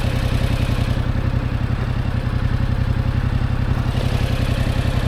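Motorcycle engine idling steadily with a low, regular chugging pulse as the clutch is let out and the bike begins to roll, close and constant throughout with no speech.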